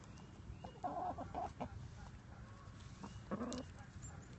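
Quiet chicken clucks, a few short bursts around the start and again near the end, over faint outdoor background noise.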